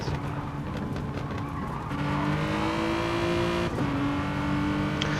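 Hyundai race car at Brands Hatch scuffing its tyres on the edge of a corner with little grip, a sustained tyre squeal over the engine's rising whine, fairly distant and continuous.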